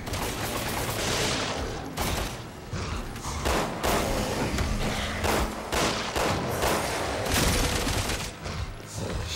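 Gunfire aimed at a creature in Resident Evil 6 rings out in repeated sharp bursts of shots, with mechanical clanks between them, loud and steady across the whole stretch.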